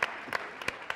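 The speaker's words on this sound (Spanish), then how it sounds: "Un fuerte aplauso para Maite Modriego" An audience at a tourism panel talk applauds as a speaker is introduced, a soft steady wash of clapping with a few louder single claps standing out at brief intervals.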